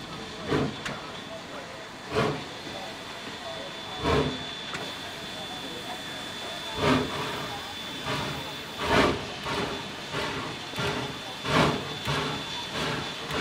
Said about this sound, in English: please enjoy these two locomotives as they complete the 10th anniversary doubleheader for the Northern